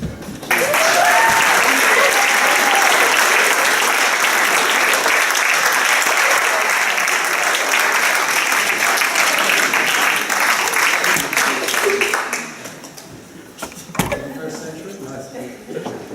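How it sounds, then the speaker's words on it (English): Wedding guests applaud warmly at a marriage celebration, a long dense round of clapping with a few cheers early on and voices mixed in, tapering into scattered claps and chatter near the end. "Will you please give these guys a round of applause for all they've achieved?"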